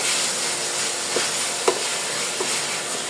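Ginger paste with salt sizzling in hot oil in a pan, a soft continuous hiss with a few faint stirring taps, close and fairly quiet.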